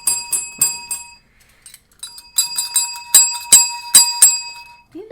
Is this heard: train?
no